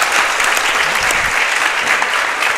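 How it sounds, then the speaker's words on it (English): An audience claps steadily through a radio-feature event, dense, loud applause that holds at an even level from start to finish with no talk over it. "Give her a round of applause."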